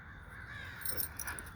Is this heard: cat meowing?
no